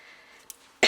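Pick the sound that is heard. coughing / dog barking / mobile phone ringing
coughing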